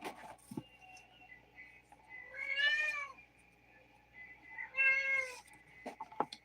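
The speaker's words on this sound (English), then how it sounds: "Of all my cats, he is the cutest meow." A large male cat meows twice, two clear drawn-out calls a couple of seconds apart, close and moderately loud in a quiet room.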